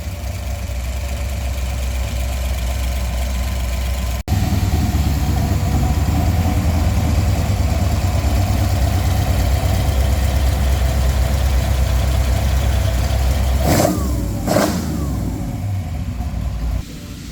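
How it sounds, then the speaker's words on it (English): A small-block Ford V8 fitted with eight-stack throttle-body injection idles steadily, loud and close, with a short thump early on and a couple of quick throttle blips near the end. "Got a small block Ford here today with a Throttle 8 stack on it"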